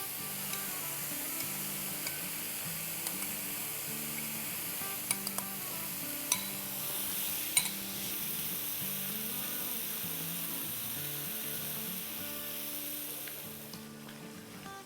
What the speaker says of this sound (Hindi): ये हमारा टमाटो वाला मसाला बड़ा अच्छा सा भुन गया है तो इसमें हम डालेंगे 6 टेबलस्पून